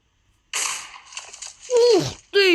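Sharp game-style blasts burst out in quick succession, loud and close, with synthetic sweeping tones mixed in.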